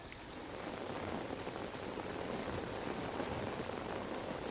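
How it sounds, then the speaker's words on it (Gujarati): Steady rain falls in Valsad, Gujarat, a soft, even hiss of drops on surfaces that holds constant throughout without pauses or voices. "વલસાડ અને આસપાસના વિસ્તારોમાં પણ વરસાદ જોવા મળી રહ્યો છે"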